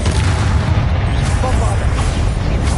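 Confringo fire spell blasting in Hogwarts Legacy, a dense, rumbling booming explosion that fills the whole moment, loud and close, with heavy low-end roar.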